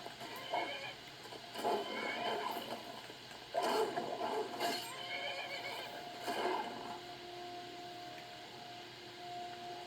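A horse in the video game Skyrim whinnies several times in drawn-out neighs over a steady background hum, fairly close and moderately loud.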